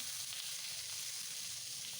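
Cut flat beans drop into a pan of half-fried potatoes and onions for a drumstick-flower chorchori, setting off a steady, dense sizzle of frying that runs evenly throughout, close and moderately loud, with no voices.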